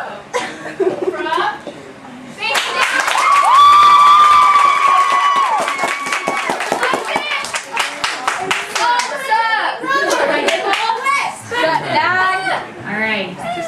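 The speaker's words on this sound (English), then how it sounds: "Big round of applause since he decided he was going to try to hide from us." An audience at a church youth gathering claps and cheers, with a long sustained whoop or shout rising over the crowd and scattered clapping amid voices and chatter.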